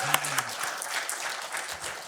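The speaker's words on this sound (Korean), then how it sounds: "야 하나님께 영광의 박수는." Church congregation applauding during a Sunday worship service, a short burst of clapping in a large room with a voice briefly audible near the start.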